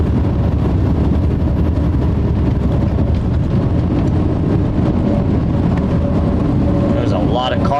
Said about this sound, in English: There's a lot of cars that were coming down off of 145.